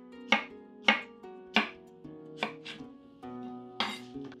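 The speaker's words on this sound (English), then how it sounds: "And then just cut this into half moons." A knife slices a cucumber into half moons on a cutting board, giving a series of crisp, evenly spaced chops. The chops are close and distinct, with a steady tonal hum running underneath.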